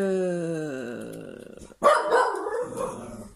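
Léo the dog grumbles with a long, falling growl-like moan, then breaks into a burst of loud, close barking, rough and agitated, with no talk over it.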